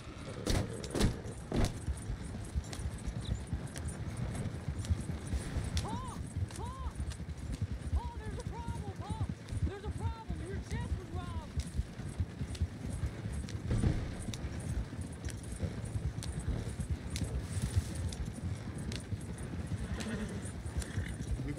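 Horses pull a stagecoach in the video game Red Dead Redemption 2, their hooves clip-clopping in a steady trotting rhythm alongside jangling harness and rolling wheels, while voices talk over it.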